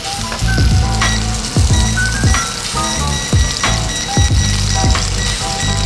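A tuna steak fries in a hot pan with a loud, steady sizzle and spatter. Regular clacks and scrapes from a utensil against the pan cut through it every second or so.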